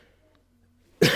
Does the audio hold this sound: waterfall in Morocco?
no